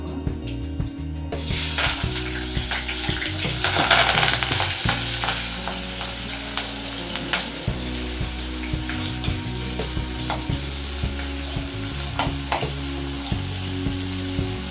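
Curry leaves crackle and sizzle in hot oil while a spoon stirs the pan, loud spitting bursts early that settle into a steady close fry with occasional scraping.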